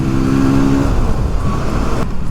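A loud, steady engine drone from an Orcal SK01 125 motorcycle under way, a continuous hum with road rush that drops away abruptly near the end.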